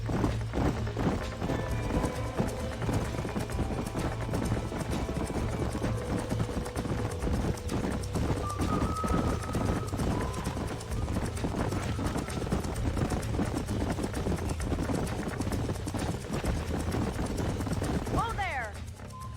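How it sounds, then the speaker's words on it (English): Several horses gallop across open country in the Western video game Red Dead Redemption, a dense, continuous rumble of hoofbeats with a brief whinny near the end, while voices talk over it. "These are fine horses."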